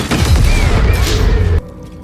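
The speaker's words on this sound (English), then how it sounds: "now that I have a rocket launcher" Rocket launcher fired in a video game: a loud, close blast with a booming low rumble and crackle that cuts off abruptly into near silence after about a second and a half.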